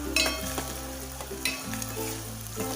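Masoor dal sizzles steadily as it roasts in a hot pan, with a soft continuous fry, light stirring scrapes and a low steady hum underneath.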